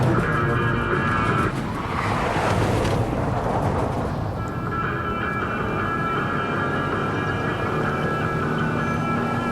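A car in Life is Strange: Before the Storm roars along with a loud, continuous engine and a stretch of tire skidding early on, mostly alone without talk.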